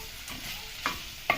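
Pork and onions frying in cooking oil under soft, steady sizzling, with a few scraping stirs of a utensil against the pan.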